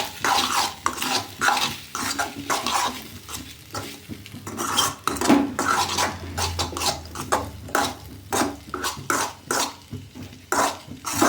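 Beetroot rice ingredients being sautéed in a pan, with a utensil repeatedly scraping and stirring against the metal in uneven bursts, a light sizzle underneath, loud and close.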